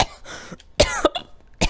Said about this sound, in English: Hiccups. Coughs.